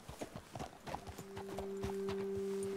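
Horse hooves clip-clop in Red Dead Redemption 2, a quick irregular run of close hoof strikes that gives way to a low steady hum near the end.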